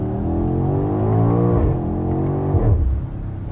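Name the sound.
2021 BMW X6M Competition engine revving in first gear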